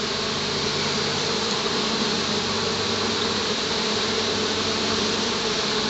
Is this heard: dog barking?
no